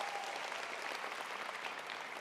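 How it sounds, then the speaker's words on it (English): Steady, fairly soft audience applause at a talk honoring Nick Johnson: dense, even clapping from a crowd, with no voices over it. "Another round of applause for Nick Johnson."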